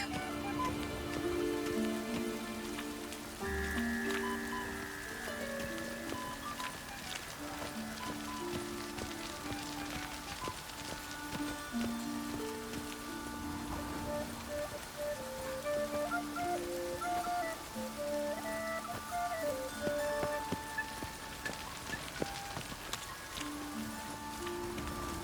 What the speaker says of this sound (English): Looks like rain. Lots of fuss over lots of rain.